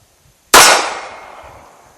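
A single sharp Ruger LCP Max .380 pistol shot rings off a steel target at an outdoor range, a loud crack followed by a long metallic ring that slowly fades, with no talking.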